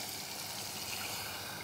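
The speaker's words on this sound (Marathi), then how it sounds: "आपल्याला जेवढा रस्सा लागतो तेवढं चिंचेचं पाणी टाकायचं" Tamarind water is poured into a prawn and bombil curry, a short continuous trickling splash heard alone with no talk.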